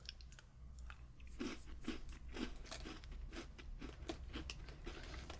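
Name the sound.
chewing crunchy vanilla butter cookie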